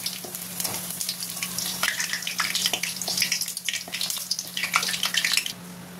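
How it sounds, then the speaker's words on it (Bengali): Sliced onions frying in hot oil until red-brown, a dense crackling sizzle that rises and falls steadily for several seconds before cutting out near the end, with no one talking. "দেখো পেঁয়াজগুলো একদম লাল লাল করে ভেজে নিয়েছি, এবার এগুলোকে তুলে নেবো।"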